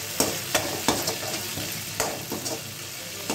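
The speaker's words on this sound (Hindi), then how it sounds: "अब इसे मैं अच्छी तरह भूनूंगी।" A masala is being sautéed with a paste of cashews and poppy seeds, giving steady loud sizzling and frying with repeated sharp clicks of a spoon stirring against the pan.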